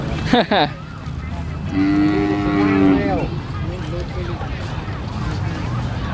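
Cattle low at a cow and buffalo market in Sikhoraphum district, Surin province: a short call, then one long, loud, close moo lasting about a second, with market chatter and bustle around them.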